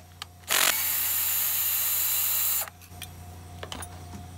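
A power tool spins out a 1/4 inch bolt from a push mower's heat shield, a loud, steady whine lasting about two seconds, then a few small metallic clicks close by.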